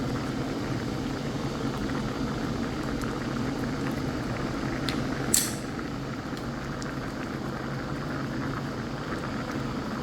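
Chicken stew simmering in coconut milk in a covered pot: a steady, even bubbling hiss that continues throughout, with one brief sharp click partway through.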